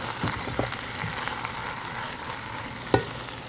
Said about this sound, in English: Just like sizzle.